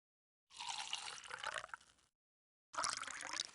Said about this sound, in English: Quickly pour 1 cup of vinegar into the bottle and then remove the funnel.